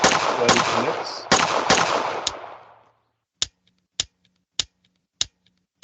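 Gunfire in a Unity VR game under development: a burst of loud, echoing shots fades into silence, followed by five sharp, evenly spaced single shots with faint clicks between them.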